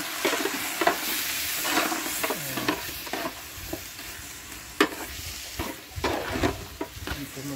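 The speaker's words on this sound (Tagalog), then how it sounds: "isabay sa gisa yung bigas" Glutinous rice sautéed for arroz caldo, sizzling steadily in a pan while a spoon scrapes and stirs it in irregular bursts, close and fairly loud with no talking.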